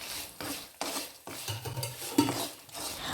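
Poha mixture ingredients with a little sugar are tossed together in a pan, a spoon scraping and clinking against the metal in irregular strokes, close and fairly quiet, with no voices.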